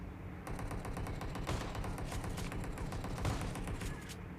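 Rapid shotgun fire from an online battle royale match, a dense run of sharp overlapping blasts from about half a second on, fairly steady and moderately loud with no talk over it.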